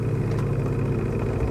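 A small outboard engine on a mini speedboat runs steadily at close range, a continuous low, rough drone with no pauses.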